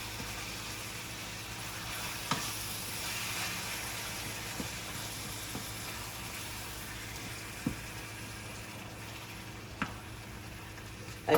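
Chunky ground beef sizzles steadily in a smallish frying pan as it is stirred, a continuous close hiss with a few soft scraping knocks, and no talking.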